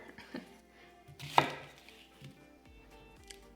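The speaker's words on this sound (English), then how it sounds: "So we're gonna start by just quartering this onion." A knife chops through an onion on a cutting board, quartering it: a few soft taps followed by one loud, sharp cut, then quieter small knocks, close and alone.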